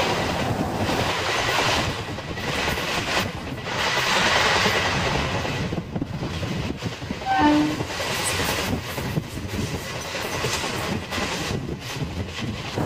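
Thirupathi Express train running at speed on a Villupuram to Arni journey, a steady loud rumble of wheels and wind rush throughout, with a brief rising squeal or horn-like tone midway.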